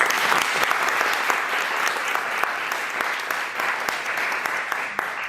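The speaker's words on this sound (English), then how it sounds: "So let's give everyone one last big round of applause." A conference audience gives a final big round of applause, steady clapping from a large room with individual sharp claps standing out from the dense patter throughout.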